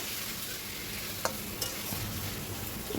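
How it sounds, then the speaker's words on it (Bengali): Pork frying in a pan with chui jhal gives off a steady hiss of hot oil, with a couple of sharp utensil clicks and a low stirring rumble near the end, close and alone. "ওই চুই ঝালটা দিয়ে একটু কষিয়ে তারপর তেল ছেড়ে দিলেই দিয়ে দিয়েছি মাংস"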